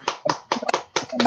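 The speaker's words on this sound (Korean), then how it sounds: "박수 한번 하시죠" Scattered individual handclaps sound at the close of a Korean online video-conference rally, a few sharp claps spaced irregularly and mixed with voices speaking over them.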